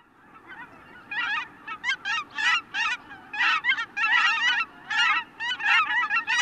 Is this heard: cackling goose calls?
yes